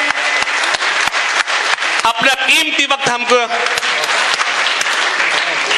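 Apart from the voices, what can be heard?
audience applause welcoming a guest at a mushaira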